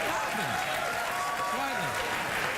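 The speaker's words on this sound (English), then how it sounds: "What are you applauding for?" Steady, dense applause from a late-night talk show studio audience fills the room at an even level, with a few voices faintly audible beneath the clapping.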